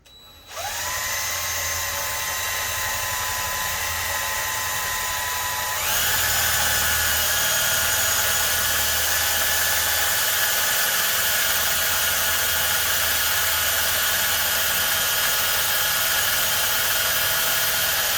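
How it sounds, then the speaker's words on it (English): A power drill boring a pilot hole in a wheelchair part, a loud high whine that starts abruptly, then steps up in pitch partway through and holds steady to the end, close and alone. "Pilot hole done."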